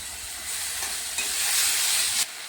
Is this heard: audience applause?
no